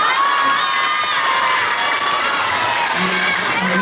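Children at an elementary school lecture cheer and shout as a crowd, loud and continuous, with scattered clapping mixed into the excited voices throughout.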